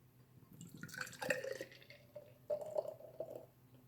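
A crowler can of Merit Badge Pumpkin S'mores imperial stout from Backyard Brewery pours beer in two gurgling, splashing bursts, close and fairly quiet, with some spilling onto a table.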